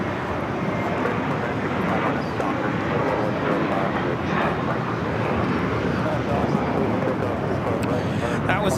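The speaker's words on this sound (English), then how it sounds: "That was American Airlines Flight 32 taking off to JFK on the A321." American Airlines Airbus A321 jet taking off from LAX, a steady broadband engine roar holding loud and even throughout, with voices talking over it.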